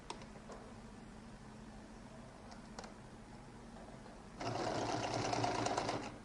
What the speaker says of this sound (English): So I place them together, and I'm going to sew the top alone